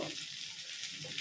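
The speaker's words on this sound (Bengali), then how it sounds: "হিংটা দিয়ে এবার আলুটা ভালো করে ভেজে নেব।" Potatoes frying in oil with asafoetida give a brief, soft, steady sizzle and hiss, heard close with nothing else; no talking.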